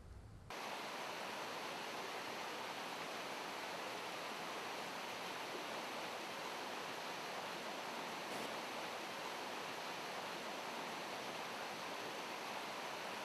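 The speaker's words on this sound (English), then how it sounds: "Here in the Alps, where the water has only traveled a few kilometers, the river is still very steep, has a narrow channel and a limited water discharge." A steep, narrow mountain river in the Alps rushes in a dense, unbroken roar, steady and full throughout after a brief quieter start.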